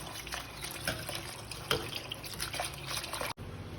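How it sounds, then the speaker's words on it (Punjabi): Fresh mint leaves being washed in a bowl or sink of water for a homemade jal jeera, with steady splashing and sloshing close by, a faint drip-like patter, and no voices. "ਪੁਦੀਨੇ ਨੂੰ ਦੋ ਤਿੰਨ ਵਾਰੀ ਪਾਣੀ ਦੇ ਵਿੱਚੋਂ ਅੱਛੀ ਤਰ੍ਹਾਂ ਦੇ ਨਾਲ ਵਾਸ਼ ਕਰ ਲਾਂਗੇ"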